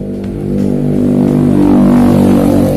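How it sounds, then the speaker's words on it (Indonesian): A passing motorbike sweeps by at close range, its engine drone swelling loud and steady with rising harmonic tones over a few seconds. "Motor lewat lagi."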